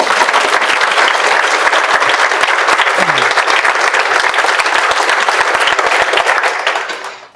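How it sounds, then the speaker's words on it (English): A large audience at a school district event claps loudly and continuously for the servers for about seven seconds, the dense applause fading out at the end. "let's just give them a round of applause"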